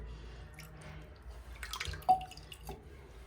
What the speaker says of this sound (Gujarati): અત્યારે સ્નાન વિધિ શરૂ છે અમારા ઠાકોરજીની મસ્ત મજાની ગરમ ગરમ પાણીથી.